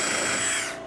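A power drill spins a 3.5 mm bit through a pilot hole while a tire carrier is fitted to a Ford Transit van, giving a loud, steady whine that eases off at the end of one short burst.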